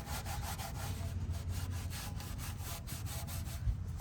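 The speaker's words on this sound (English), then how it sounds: "Let's wipe this whole thing down." Rag wiping over the engine parts of a 2006 Chrysler Town & Country during an oil change, a steady, close scrubbing rub that continues evenly throughout without speech.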